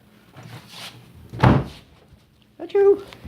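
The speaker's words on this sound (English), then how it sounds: "let me shut this door" A door is shut with a single solid thunk midway, loud and close, between bits of nearby talking and a dog's noise.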